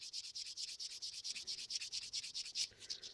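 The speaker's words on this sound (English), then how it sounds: "I'm just going in with this sander again. Soft foamy sander, about 240 grit." Soft foam sanding pad of about 240 grit rubbed over a plastic model truck kit part in fast, regular back-and-forth strokes, close and clear with no talking.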